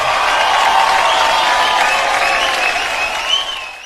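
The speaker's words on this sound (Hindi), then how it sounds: "अवस्था के पापा के लिए एक बार जोरदार तालियां" Loud, dense applause from an audience for a girl's father at a dance show, a continuous roar of clapping mixed with faint cheering that holds steady before easing slightly at the close.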